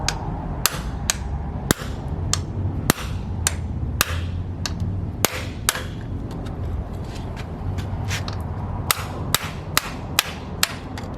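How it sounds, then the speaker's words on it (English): Freeze plugs get hammered out of a Ford 312 Y-block engine block, sharp metallic strikes landing in irregular clusters over a low rumbling background, loud and close, with no talking. "push out freeze plugs"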